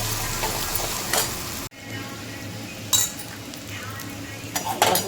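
Green chilli paste sautéed in a hot pan of onions while making a potato curry, giving a steady close sizzle and frying hiss with scattered clinks and scrapes of a spoon against the pan.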